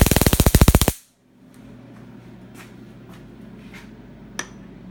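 A remnant charge in a capacitor tank discharges as it is shorted, a rapid burst of about a dozen loud snapping crackles lasting under a second, then a low electrical hum with faint ticks and a single sharp click.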